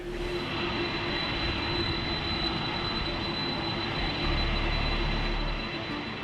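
Air Force One, a U.S. Air Force jet carrying the President, gives off a loud, steady engine roar with a constant high whine that holds evenly throughout, close by, with no voices.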